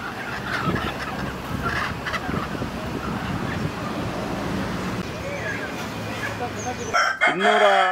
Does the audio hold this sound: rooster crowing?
yes